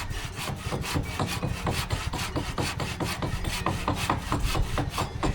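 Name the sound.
hand saw cutting bamboo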